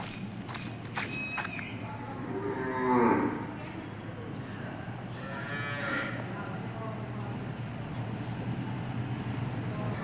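Cows in a cowshed low loudly twice while feeding, a drawn-out moo early and a softer one later, over a busy outdoor background with scattered shuffling.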